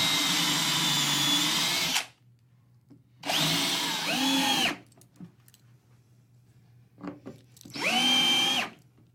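Power drill driving fasteners into maple flooring boards over an underfloor, heard as three loud bursts of whining drill motor, each one to two seconds long, separated by quiet gaps with faint handling noise.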